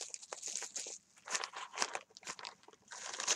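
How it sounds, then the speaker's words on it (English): Bubble wrap crinkles and crackles in bursts as a parcel is unpacked by hand, close and fairly quiet, with short pauses between handfuls. "Here's a bunch of bubble wrap."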